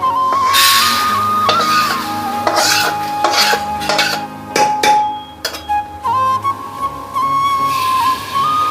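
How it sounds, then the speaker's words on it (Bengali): Dry-fried moong dal is scraped and scooped out of a pan, producing repeated close rasping strokes and metallic scrapes in uneven bursts, with a steady background tone throughout. "মুগ ডাল ভাজা হয়ে গেছে, এবার নামিয়ে নেব।"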